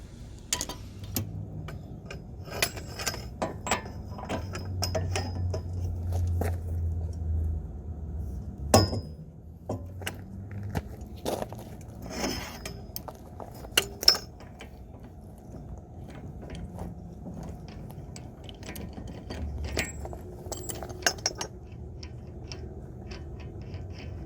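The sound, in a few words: socket wrench removing axle nut on Acura Integra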